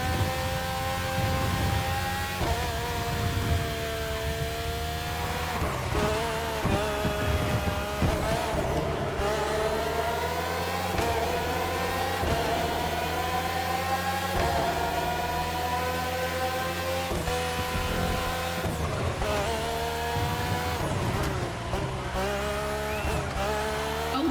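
Red Bull Formula 1 cars, the RB13, RB14, RB18 and RB20 with Renault and Honda engines, scream past in The Crew Motorfest, high-pitched engines rising and falling through gear shifts in a loud, continuous race.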